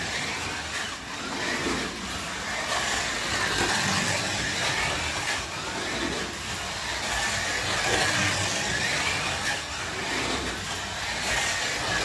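A Carrera Go Ferrari slot car runs along its plastic track with a steady, continuous whirring drone that swells and eases slightly as it circles, heard alone without talk.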